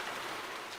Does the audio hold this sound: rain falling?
yes